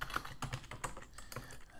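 Typing on a Mac computer keyboard, a quick run of sharp individual key clicks in an uneven rhythm, close and clear with no voices.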